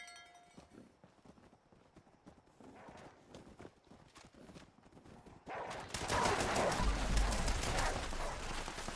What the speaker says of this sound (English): All right, cows. Move it.